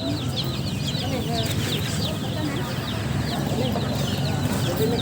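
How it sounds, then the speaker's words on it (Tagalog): Newly bought baby chicks peep in a busy market town setting, their high chirps repeating steadily over a constant background of crowd noise and nearby voices. "Galala po ni Yana yung nabili namin nga sisiw."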